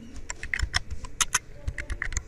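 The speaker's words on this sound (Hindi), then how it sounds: "यहाँ पे टाइप करना है टेलीग्राम" Rapid clicking keystrokes on a computer keyboard while entering a word into a web browser's search bar, an uneven run of close, light taps with no talking.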